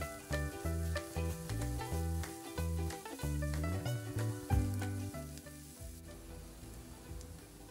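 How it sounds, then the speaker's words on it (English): Chopped onions frying and being stirred in a pan for a meat and potato pie, with a soft hiss and scraping stirs under louder background music. "Add in the chopped onions. Stir well. Fry until fragrant."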